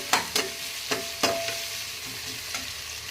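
A spiced masale bhaat rice mixture being sautéed on medium flame, several sharp stirring clanks and scrapes against the pan over a low, steady sizzle.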